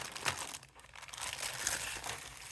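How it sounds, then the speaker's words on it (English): Packing tape is peeled off the box of a nearly 30-year-old, never-opened Lee 1:200 missile frigate plastic model kit, giving close, continuous crinkling and tearing for a couple of seconds. "So I'll just open the tape right here."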